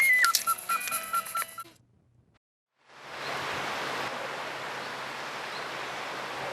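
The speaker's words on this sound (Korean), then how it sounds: "고즈넉한 파도 소리," Gentle ocean waves wash onto the shore of Gomsol beach beside a 300-year-old black pine forest at dawn, a steady broadband surf that fades in after a brief silence and then holds evenly, moderately close.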